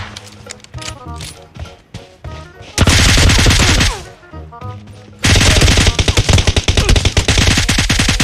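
Rapid machine-gun bursts from a weapon in PUBG Mobile, loud and close, come in short choppy volleys followed by two long sustained streams of automatic fire.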